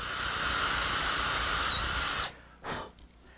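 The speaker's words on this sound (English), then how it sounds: "I've switched router bits, this time to a rabbiting bit." Router fitted with a rabbeting bit cuts a recess into the wood of a shaving stand for a mirror, a loud steady high whine running for about two seconds before cutting off, then a brief spin-down burst.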